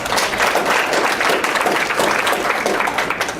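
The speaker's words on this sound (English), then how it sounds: "Give yourself a round of applause" Audience applause at a social media breakfast event, a loud, steady wash of clapping from a roomful of people with a few voices in the crowd.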